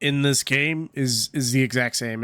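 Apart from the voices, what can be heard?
No everyday noises stand out.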